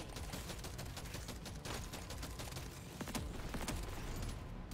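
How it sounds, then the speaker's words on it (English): Rapid, dense gunfire from a shotgun in Deep Rock Galactic: Survivor, a continuous fusillade of overlapping blasts amid busy game effects, loud and steady throughout with no talking. "Let's try the shotgun this time."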